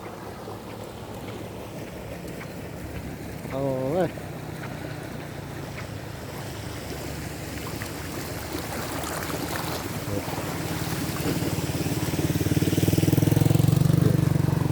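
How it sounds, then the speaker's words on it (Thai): Water flowing and draining steadily close by, a continuous rushing wash that builds louder toward the end, with a brief exclamation from a voice partway through. "ฟังเสียงน้ำน้ำไหลครับแห้งโมแห้งครับพี่น้อง"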